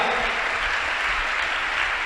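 A church congregation claps loudly together, a dense, even wall of applause that runs unbroken and close through the whole short stretch, with no voices over it.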